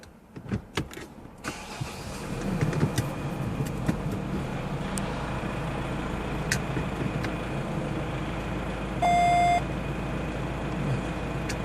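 A steady idling engine of a Nissan Navara pickup fitted with a parking sensor on its metal rear bumper, with mechanical clicks early on and one short, clear sensor beep near the end.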